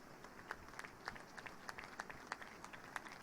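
At a seminary graduation award ceremony, an audience gives faint, sparse, uneven applause, with scattered claps tapping along at a distance.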